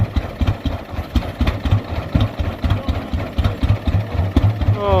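A 1922 Rumely OilPull 16-30H tractor engine runs close by at a slow, heavy, evenly thumping idle after firing up, with people talking briefly over it.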